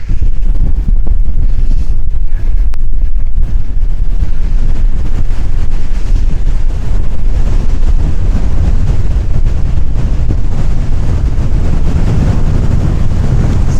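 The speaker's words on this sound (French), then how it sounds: "le vent, ça envoie du gaz là" Strong wind roars steadily into the microphone in the Canary Islands, Lanzarote or Fuerteventura, a loud constant buffeting with a faint wash like surf beneath it.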